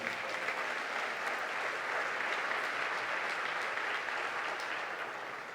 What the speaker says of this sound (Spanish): Un aplauso a la palabra del Señor.